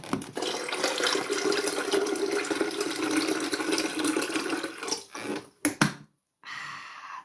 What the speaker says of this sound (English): No, that was the kettle. That was the water pouring.